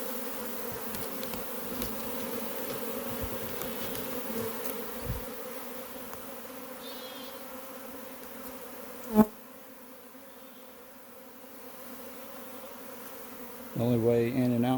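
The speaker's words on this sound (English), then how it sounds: "dump those bees on top." A honey bee swarm buzzing steadily as it is dumped into a hive box during a swarm capture, a continuous close hum that runs throughout, with a single sharp knock partway through.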